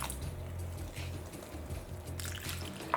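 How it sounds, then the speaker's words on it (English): Water poured into a bowl of pakora batter made with cauliflower, a steady soft liquid pour with faint splashing and wet mixing sounds, close and continuous with no talk. "And then add enough water to bring this together to form a batter."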